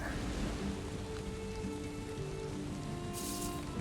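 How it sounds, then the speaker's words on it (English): Steady rain falls in the Valheim video game around a small town-house build, a dense, even hiss of drops on surfaces that holds at constant loudness with no voices. "Let's bring some rain."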